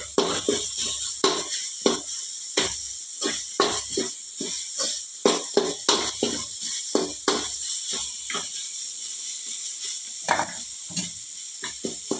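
Seasoning fries in an oiled pan for mango chitranna, a loud steady sizzle punctuated by repeated scraping strokes of a spoon stirring, rhythmic and close with no talking.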